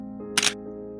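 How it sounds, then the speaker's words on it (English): A single crisp shutter click from a camera taking a photo in a grassy graveyard on a breezy spring day, sharp and close, standing alone over a soft steady musical background. "She raised her camera and pressed the shutter."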